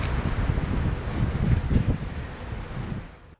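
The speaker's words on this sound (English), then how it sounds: "Heavy rain pelted the region while strong wind gusts uprooted and downed trees" Strong storm wind buffets the microphone in heavy, continuous rumbling gusts that swell and fade, loud and close, with no voices.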